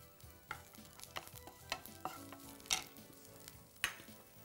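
Onions stirred in a hot pan in a Tamil home-cooking show, a soft sizzle under scattered spoon scrapes and taps, close and fairly quiet with no talk.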